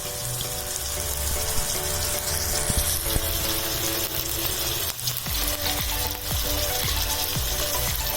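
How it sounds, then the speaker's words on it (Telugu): Tomatoes fry in a pan for a mutton head curry, a loud, steady sizzle heard up close throughout, with occasional utensil knocks and scrapes. "టమాటా బాగా ఫ్రై అవ్వాలండి."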